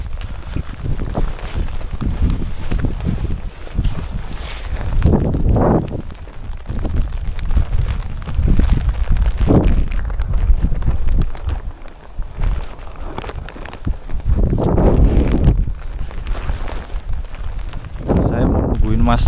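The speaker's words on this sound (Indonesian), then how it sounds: "Sambil ini menahan angin yang cukup kencang." Strong gusting wind buffets the microphone on a night solo hike up Mount Buthak via Panderman, roaring in surges throughout while someone talks over it.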